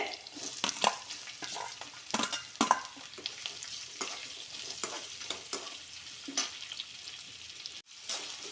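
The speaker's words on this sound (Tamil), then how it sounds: "வெந்தயம் வெந்தயம் கடுகு சீரகம் பொரிஞ்சிருக்கு" Fenugreek, mustard and cumin seeds splutter in hot oil for a sankara fish kulambu. Scattered small pops and crackles sound at a fairly low level, with a few sharper bursts, and no one talks.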